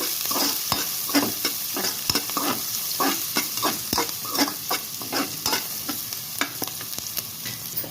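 Onions browning in a pan for a mutton boti and green chana fry, with brisk repeated scraping stirs of a spatula over a constant loud sizzle, close up and rhythmic.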